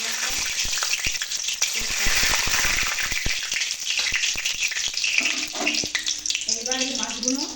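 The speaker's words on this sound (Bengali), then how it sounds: "কড়াইয়ের তেল গরম হয়ে গেছে, এবার কালো জিরে দিয়ে দিয়েছি" Black cumin and dried chillies crackle and spit in hot oil in a kadai, a loud busy sizzle full of sharp pops and clatter, with a voice briefly audible near the end.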